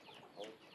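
Chickens and chicks clucking at feeding time in a village on the Mentawai Islands, a brief, fairly faint murmur of soft clucks close by.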